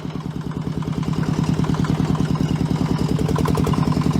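Fendt Fix 1 tractor with a one-cylinder engine chugging in a rapid regular beat, close and loud, revving up slightly and staying steady as it runs, no talking over it.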